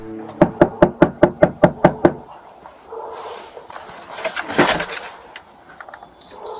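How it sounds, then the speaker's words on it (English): Police pound on a house door, about eight firm, evenly spaced knocks sounding loud and close. Shuffling, movement and a murmur follow. "the police knocked on Amanda's door to take her into custody"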